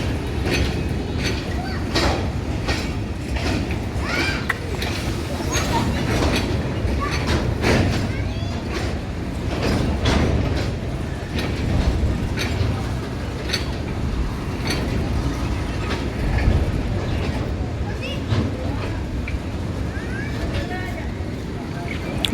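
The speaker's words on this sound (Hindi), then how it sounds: "अब देखना ये है कि ये ट्रेन यहाँ पे रुकती है या कूच कर जाएगी." A passenger train rolls into a railway station in Pakistan, with steady rumble, creaking wagons and mechanical clatter close by over the full length, while someone talks over it.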